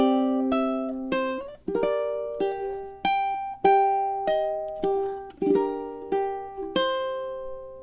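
Ukulele plays a solo melody passage from Scarborough Fair, clear single plucked notes in a steady, unhurried rhythm, each ringing briefly before the next, close and alone with no talking.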